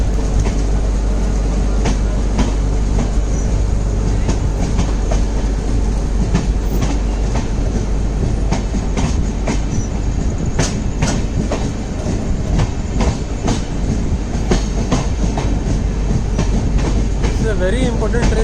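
The Netravati Express, running from Mumbai LTT to Thiruvananthapuram, rolls on after departing Kankavli, giving a loud, continuous rumble close by with steady clickety-clack wheel beats and occasional sharper metallic knocks throughout.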